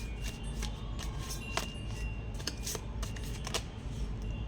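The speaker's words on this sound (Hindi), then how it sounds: "Let's pull some more cards." Tarot cards being shuffled and pulled, a steady run of close, crisp riffling flutters and snaps with no talk.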